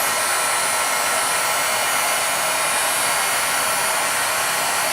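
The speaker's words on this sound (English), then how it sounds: "But just going to heat emboss this." A heat embossing tool blows hot air over a stamped card, a steady, loud whooshing roar with a high hiss that runs unbroken for the whole stretch, with no talking.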